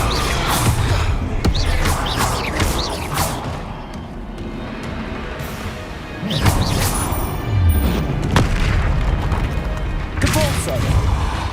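Spell blasts and explosive impacts crash repeatedly in the Hogwarts Legacy video game, loud bursts arriving in clusters over dense, continuous combat noise.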